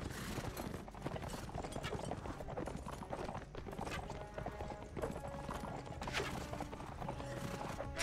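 Horse hooves clip-clop at a rapid galloping rhythm in the video game The Last Days of the Third Age, a dense steady pounding with faint clanking mechanisms behind it.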